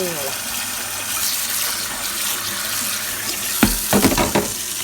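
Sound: rinsing food under running tap water

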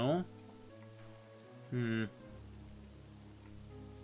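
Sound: rain falling in RPG Maker horror video game

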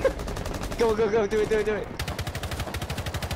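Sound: gunfire in video game Rainbow Six Siege

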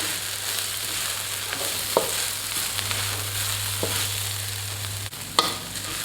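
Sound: stir-frying garlic, chili and coriander root in a pan

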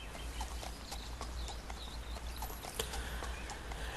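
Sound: horse hooves clip-clopping, from the video game Second Life

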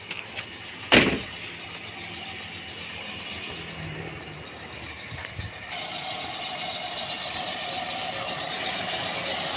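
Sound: engine of a 1996 Toyota Kijang Super G running

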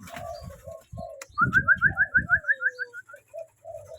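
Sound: pigeons cooing

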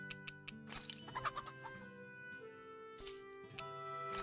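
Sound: chicken clucking in the video game Tales of Arise

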